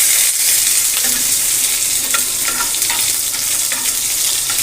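Continuous loud sizzling of garlic dropped into hot oil with kalonji seeds frying in a pan, with occasional crackles and stirring scrapes throughout.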